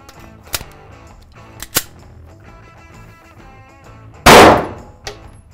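Gunshots from a Springfield Echelon pistol fired into a book target at a range: two sharp cracks, then a much louder blast with a ringing decay, and a final fainter pop, no talking.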